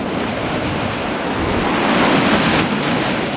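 Sea waves break and splash under a pier among driftwood, a loud continuous rushing wash that swells toward the middle, with wind buffeting the microphone.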